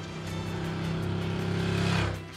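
A large 1100cc motorcycle engine runs with a steady, loud, close hum that swells slightly before dropping off near the end.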